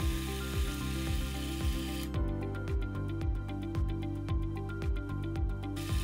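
A mini lathe turning the outside diameter of a metal part, a steady motor hum with regular rhythmic knocking repeating roughly every half second, joined midway by a brighter, finer scraping texture from the cut.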